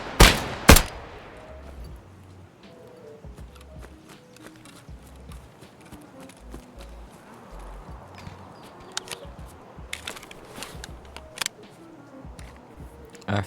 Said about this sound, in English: a sneaky little scab started shooting at me